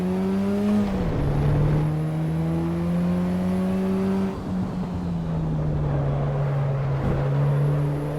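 A car engine in the Assetto Corsa Evo racing game drones loud and steady, its pitch dipping as revs fall, then climbing and sagging again through continuous, close running with no speech.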